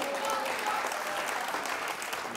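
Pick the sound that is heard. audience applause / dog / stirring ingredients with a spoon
audience applause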